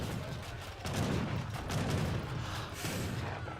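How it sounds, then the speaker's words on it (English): Heavy cannon fire in an Age of Empires 3 battle, a few deep booming shots thumping over a busy, rumbling skirmish background at moderate distance. "He has a single heavy cannon here that can do some severe damage."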